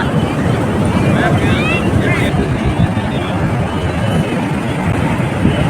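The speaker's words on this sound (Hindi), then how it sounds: "और ये बड़ी बड़ी लहरें आता हुआ बे ऑफ बंगाल का" Large sea waves of the Bay of Bengal at Puri beach roar in a continuous loud wash, mixed with heavy wind buffeting the microphone.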